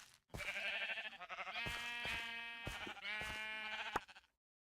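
A sheep in the video game Minecraft bleats in a long, wavering call that runs for several seconds, loud and close with no talk over it.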